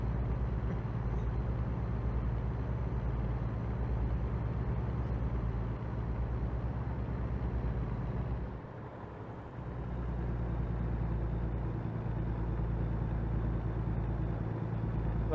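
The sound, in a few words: old truck engine driving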